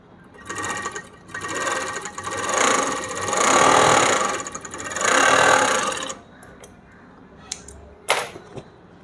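An overlock sewing machine stitches in several surging bursts that rise and fall over six seconds, followed by a few soft clicks and knocks as it stops, close up with no talk.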